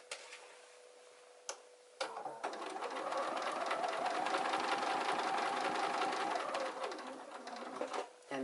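A domestic sewing machine runs a top-stitching pass on a garment after a single hand-turned stitch, its rapid, even needle chatter steady for several seconds before slowing and stopping, close and clear.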